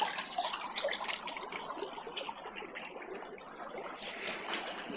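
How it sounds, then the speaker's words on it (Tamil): Water trickles and gurgles from a lake sluice opened for irrigation beside an ancient rock-cut cave temple, a soft continuous flow heard fairly faintly and alone. "தண்ணி பாருங்கள் உள்ளேருந்து வந்துட்டு இருக்கு."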